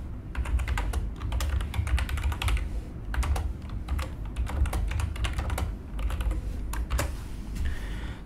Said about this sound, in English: So here I'm going to type some message.